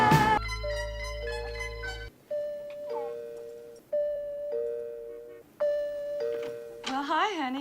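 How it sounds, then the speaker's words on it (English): A doorbell from the 1981 film Looker chimes over and over in sustained, bell-like tones, roughly four or five rings in a row with short gaps, sounding clear and fairly close. "her doorbell rings 5 times."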